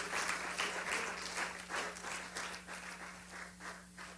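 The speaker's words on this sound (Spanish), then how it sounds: "Dele un mejor aplauso al Señor Jesús." A church congregation applauding during a sermon, a dense, fairly faint burst of many hands clapping that pulses unevenly and gradually thins out over a low steady hum.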